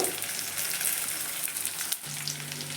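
Onions fry in a pan with a steady, fairly quiet sizzle that runs without a break, joined by a low hum toward the end.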